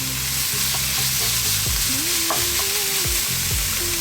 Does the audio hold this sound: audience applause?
no